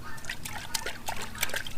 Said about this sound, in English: Are you watering the tomato plants?